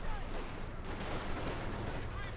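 Dense gunfire and rifle shots aimed at an infantry rifle squad in the Company of Heroes 2 strategy game, a continuous rattling fusillade with no pauses over a short stretch.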